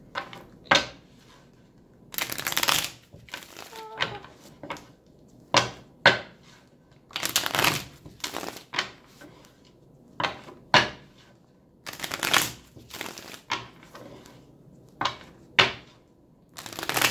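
Tarot cards are shuffled in repeated bursts, crisp riffling and shuffling sounds separated by short quiet pauses, close to the listener.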